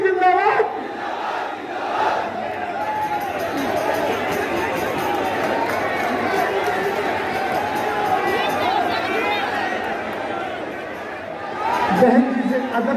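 A large crowd at a Bahujan Samaj Party rally in Ghaziabad keeps up a continuous roar of shouted slogans, with a louder swell at the very end.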